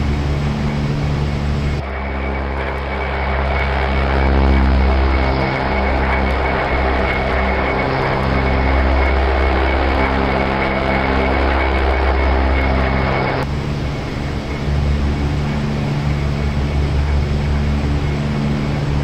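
An aircraft engine roaring through a takeoff roll in the DCS World flight sim, a loud sustained drone with layered tones that swells in the middle and then carries on steadily to the end.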